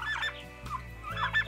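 Young turkey poults on a village farm give close, soft clucks and chirping peeps in a short busy burst, with no talking.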